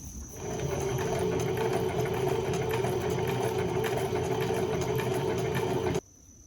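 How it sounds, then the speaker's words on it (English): A sewing machine runs in one steady burst for several seconds, a close, even mechanical whirr with a rapid needle rhythm, stitching across the folded end of a cotton yukata kimono belt before stopping abruptly. "I'm going to just sew it right there"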